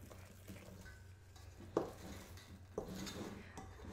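Pumpkin bread batter stirred and scraped in a mixing bowl, with soft steady scraping and a couple of sharper knocks of the utensil against the bowl, close and fairly quiet.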